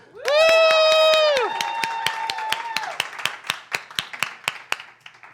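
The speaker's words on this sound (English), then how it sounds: "Round of applause for Cole." A crowd applauds and cheers: a loud sustained cheer with whooping voices gives way to steady, fading clapping from a lively audience at a comedy presentation.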